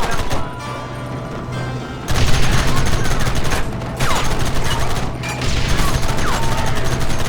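Dense, loud gunfire fills a Red Dead Redemption cutscene, a continuous fusillade of overlapping shots and bursts with short lulls before the barrage resumes; shouted voices are mixed in.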